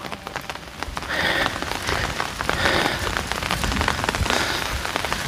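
Steady rain patters on a surface throughout, dense and fairly loud, with scattered heavier drops and no voices, in a forest.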